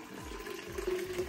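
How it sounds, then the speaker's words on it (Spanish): Water pours steadily into a small container to fill a magic Barbie doll toy, a continuous close trickle and splash with a rising fill tone, no speech. "Vamos a ponerle agua a esto."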